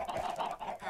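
Chickens in a video game cluck in a busy, overlapping chorus, loud and continuous for a brief moment with no talking.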